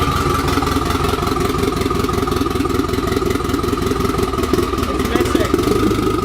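A turbocharged car engine runs close by with a rough, pulsing idle that misfires, a steady loud throb with a voice talking over it.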